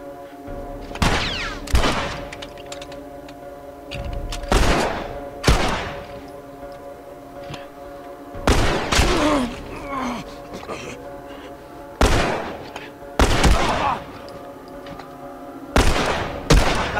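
Heavy hunting-rifle shots boom at irregular intervals during a gunfight in The Last of Us, each loud crack trailing into a rumbling decay over a steady low ambient hum.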